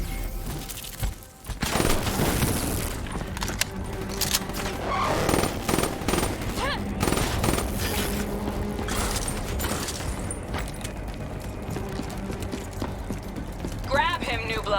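Rapid gunfire and mechanical clatter in Call of Duty: Black Ops III, a busy stream of shots and clanks running throughout with a voice talking over parts of it.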